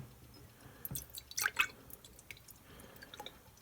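Orange-peel liquid is poured through a fine mesh tea strainer, making quiet scattered drips and small wet trickles with a brief busier patch of splashing in the middle.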